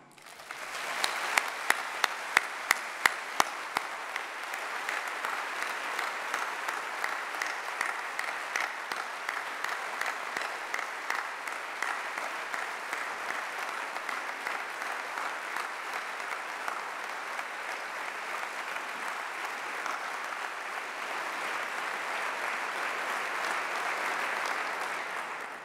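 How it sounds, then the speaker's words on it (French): Sustained applause from a large audience at the opening of the 17th Francophonie Summit, honouring Charles Aznavour. Loud, dense clapping fills the whole stretch with a few sharper claps early on, steady and alone without talk. "de saluer la présence éternelle de Charles Aznavour par nos chaleureux applaudissements"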